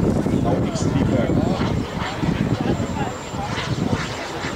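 Two turbine engines on a large model A-10 jet, about 2.75 meters in span and 30 kilograms, roar with a continuous loud rushing whine and rumble outdoors, while someone talks over the noise.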